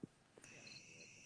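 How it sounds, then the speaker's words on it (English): Crickets chirping in a steady high-pitched trill, faint and continuous behind a quiet background, with a brief low thump at the start and no talking. "Did the crickets get quieter?"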